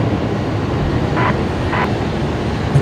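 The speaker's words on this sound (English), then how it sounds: "Qatari there, taxiing along taxiway Alpha, all the way down to the international terminal" Qatar Airways airliner taxiing at Brisbane Airport, a steady broadband engine roar at moderate distance, with two short higher-pitched tones rising above it.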